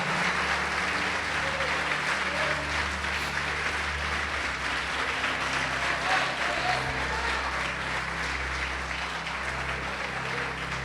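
Steady applause from a large church congregation fills the space, a dense continuous clapping that holds at an even level throughout.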